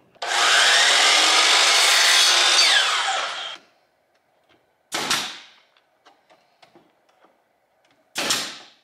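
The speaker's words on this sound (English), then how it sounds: "next step is to cut the chamfer strips" Wooden chamfer strips being cut with a saw for a concrete stone form: one long rasping cut of about three seconds, then two short sharp cutting bursts separated by near silence.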